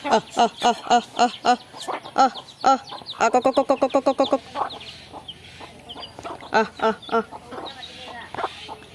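Ducks and ducklings on a homestead give bursts of sharp, nasal calls, first in spaced single cries, then a rapid run of quick repeated notes, then scattered calls tapering off into the background.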